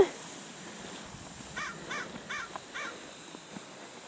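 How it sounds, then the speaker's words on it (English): Several crows caw in a short series, moderately distant, over a steady hiss of wind or outdoor ambience on a snowy sledding hill. "Do you hear the birds?"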